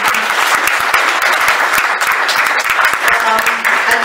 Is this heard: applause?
yes